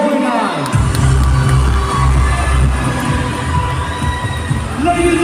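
Crowd at a beauty pageant cheering and clapping for a top-five candidate, a loud dense roar over low booming music or hum, sustained throughout with shouts mixed in.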